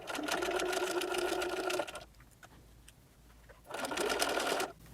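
A sewing machine stitches a face mask in two bursts, a longer run of close, even stitching, a pause, then a shorter run, heard alone.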